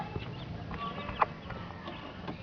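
A mother hen clucks softly with her chicks in a farmyard, a few brief calls and faint peeps scattered over steady outdoor background noise, with one slightly louder cluck midway.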